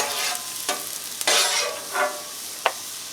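Mushrooms frying on a Blackstone griddle make a loud, steady sizzle, broken by a few sharp scraping strokes of a spatula as they are stirred.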